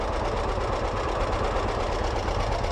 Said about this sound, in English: It's a three-wheeler tractor.